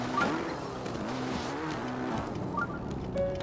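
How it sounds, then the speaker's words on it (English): A motorcycle rolls through Hyrule in a Zelda game, its engine humming steadily at low volume with a soft, continuous drone and faint tire noise. "What does the champion of Hyrule get? Literally a motorcycle."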